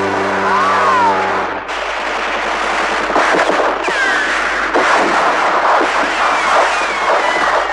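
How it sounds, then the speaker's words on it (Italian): Machine gun fire used as a sound effect in an Italian-language version of a song about Bonnie and Clyde, dense bursts of loud rattling shots that continue steadily through the stretch after an opening moment of music. "Sparano ma i mitra sono tanti e 400 colpi sono ancora di"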